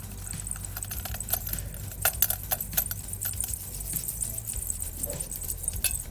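Rubbing and scrubbing an old blackened silver anklet, a steady rough scratching with irregular jingling clinks of the metal links, close and fairly loud throughout.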